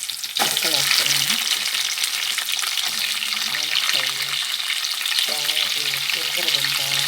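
Vegetable pieces dropped into hot oil burst into a loud, steady sizzle that continues for several seconds while a utensil stirs and scrapes the pan at close range.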